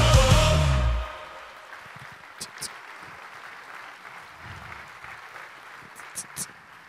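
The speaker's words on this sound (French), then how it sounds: "On les applaudit encore." Audience applause at the launch of the 2024 Téléthon broadcast: a loud burst of clapping fills the first second, then cuts off abruptly into a quiet room with only faint scattered noises.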